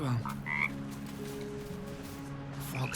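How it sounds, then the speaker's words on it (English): A frog in the video game Baldur's Gate 3 croaks erratically as if in pain, loud and close, with warbling, wavering croaks stretching across the whole stretch over a faint game backdrop. "Frog's entire body shakes. It ribbits erratically as if in pain."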